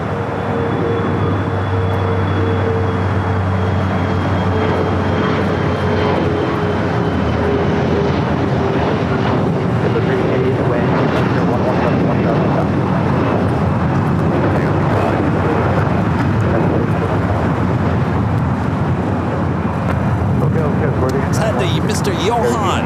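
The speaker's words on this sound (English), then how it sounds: "Got to a CRJ 700. Taking off here on the south side." A CRJ 700 regional jet takes off from the south side runway at LAX, a loud, steady roar of engine noise filling the whole stretch, with voices talking over it throughout.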